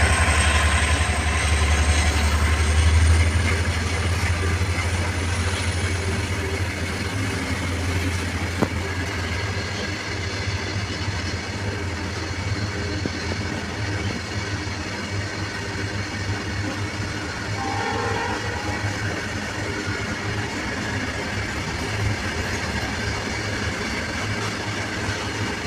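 A diesel locomotive train rumbles past at close range, a steady heavy drone of engine and wheels on rail that stays loud throughout with no voices.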